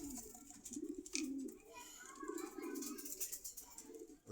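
Racing pigeons at a pigeon market in Khilgaon, Dhaka, give soft, throaty coos in repeated low phrases, near but faint, with some background murmur.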